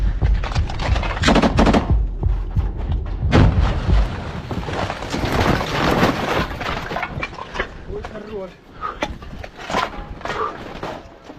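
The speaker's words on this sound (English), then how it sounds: "A Ukrainian soldier opens fire into the smoke-filled area" Bursts of close rifle gunfire during a combat ambush in a smoke-filled, partly collapsing building in Ukraine, with dense rapid shots, crashes and debris, and voices talking through the fighting.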